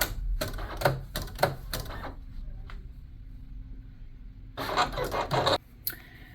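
A Silhouette Cameo 4 cutting machine at work, with bursts of rapid mechanical clattering as the carriage moves, a quieter motor hum in a pause, then another busy clattering run before it stops.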